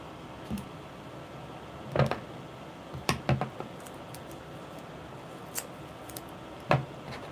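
Scissors cut paper for a 3D paper art model of the Matterhorn, with scattered crisp snips at close range, some single and some in quick pairs, separated by quiet pauses.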